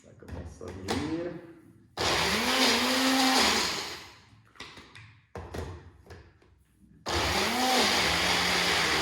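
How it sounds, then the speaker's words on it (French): A homemade smoothie churns in a kitchen blender in two loud, close whirring bursts, with scattered knocks and handling clatter in the quieter gap between them. "Donc vous mixez un peu comme ça."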